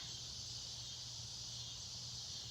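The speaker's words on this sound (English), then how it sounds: "That creepy, eerie bug sound in the trees. Those are called cicadas." A steady, high-pitched insect drone fills the air continuously, like cicadas buzzing in nearby trees, with a faint low hum beneath.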